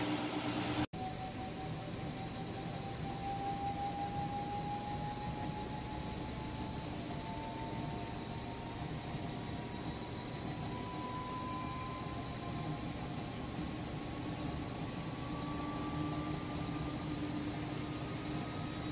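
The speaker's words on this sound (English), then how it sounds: "So we'll move along to the spin cycle next." Whirlpool Cabrio washer on its spin cycle, a steady mechanical hum with a whine that slowly rises in pitch as the tub speeds up, running alone at moderate level.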